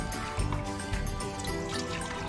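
Water is poured into a pot of rice for boiling, a steady splashing, trickling pour close up, lasting throughout.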